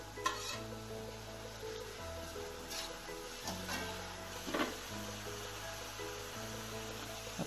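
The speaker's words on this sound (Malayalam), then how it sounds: "ചൂടായി നമുക്ക് സവാള വഴറ്റിയെടുക്കാം." Onions sautéing in a pan with crushed ginger, green chili and garlic, a steady soft sizzle with scraping stirs; a low constant hum runs underneath throughout.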